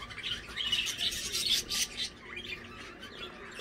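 Parrots in an aviary at an animal park in Germany: a few faint, distant chirps and squawks in quick bursts over a soft outdoor background, with no voices.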